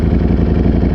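A motorcycle engine revs in race mode, a loud, steady close-up roar with a rapid pulsing throb and no voices.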